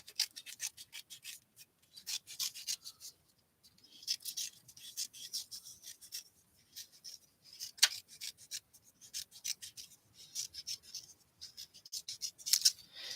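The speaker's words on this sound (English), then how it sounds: "I have to fussy cut it out" Scissors fussy cutting paper by hand, heard as quiet, close, crisp snipping and rasping in short irregular bursts with brief pauses, with no talk.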